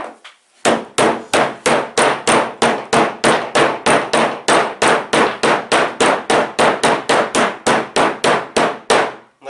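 A rapid, evenly spaced run of around thirty loud, sharp taps while a PVC pipe coupling is knocked into place, each hit crisp and close with a brief ringing tail.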